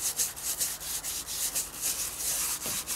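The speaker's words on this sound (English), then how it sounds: "Again, just wipe it off, and look, we're getting back to that lovely gel coat." A cloth wipes all-in-one boat cleaner off a boat's gel coat in quick, even back-and-forth rubbing strokes, close and continuous with no talking.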